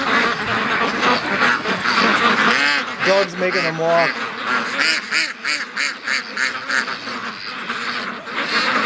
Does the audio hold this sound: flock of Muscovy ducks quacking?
yes